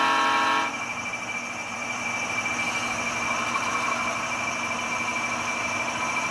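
A single rail car being shoved along by a train during a switching move to cut it, with steady low rumble and rail noise throughout and a louder burst at the very start.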